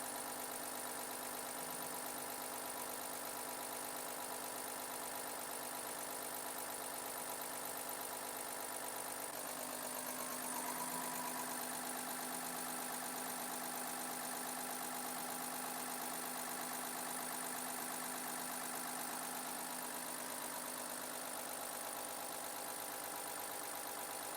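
A Ford F-250 diesel engine idling, its mechanical injection pump adding a steady ticking clatter over a constant low hum; continuous, close and even throughout.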